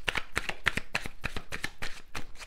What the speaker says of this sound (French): on va prendre trois cartes